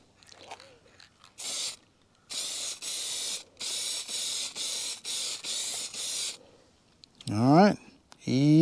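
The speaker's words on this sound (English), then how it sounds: "We're going to go ahead and apply our 1K clear coat to our badges." Short hissing bursts of 1K clear coat from a spray gun land on Mercedes-Benz grill badges, about seven close, even passes in a row, followed by a short voice at the end.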